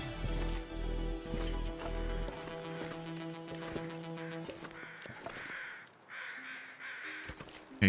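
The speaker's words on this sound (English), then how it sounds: "those are just ambiance crows" Several ambient video game crows caw repeatedly at moderate distance, harsh calls overlapping over a faint tonal background, with a few sharp knocks near the end.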